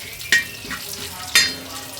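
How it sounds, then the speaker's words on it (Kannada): Curry leaves hitting hot oil for dosa seasoning, two sharp crackling bursts that hiss and fade, close and fairly loud, with quieter sizzle between them and no talking. "ಚಟ್ ಚಟ್ ಅನ್ನಕ ಕರ್ಬೇ ಹಾಕೋಣ"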